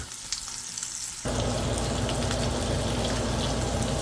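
Steak sizzles loudly in a hot pan, a quiet kitchen hiss that jumps abruptly into a steady, dense frying roar and stays level to the end, with no talking.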